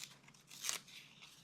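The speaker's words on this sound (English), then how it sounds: "So obviously I'm just ripping the edge of the image there." Paper being torn by hand along the edge of a printed image for vintage-style ephemera miniature art: a steady crinkly rustle peaks in one sharp rip near the middle. The sound is close and there is no talking.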